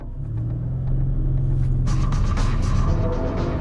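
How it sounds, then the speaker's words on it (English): A 2014 Audi RS7 driving hard along backcountry roads, its engine droning loud and steady with a deep rumble, the pitch rising as it accelerates partway through with rushing road and wind noise. "This RS7 is hilariously fast."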